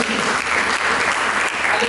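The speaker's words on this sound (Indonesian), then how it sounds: "Berikan tepuk tangan bagi Yesus Kristus." A church congregation claps throughout in dense, continuous applause that sounds near and loud, with some voices mixed in.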